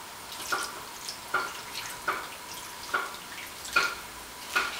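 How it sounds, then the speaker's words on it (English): Water poured into onions cooking in a pan for a chicken sandwich, heard as a series of soft, evenly spaced splashing drips about once a second, moderately close and fairly quiet, with no talking. "I'm going to put my cup of water inside the onions."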